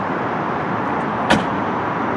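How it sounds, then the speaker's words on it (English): A Dodge Viper's rear glass is slammed shut, making a single sharp thud over a steady wash of background noise. "You have to slam the rear glass."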